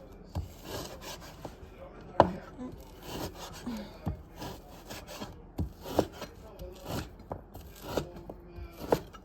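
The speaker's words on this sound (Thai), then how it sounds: "แล้วก็มาหั่นเบคอนนะคะ" Knife strokes cut bacon into pieces on a board, a series of close, irregular scraping slices with short pauses between them.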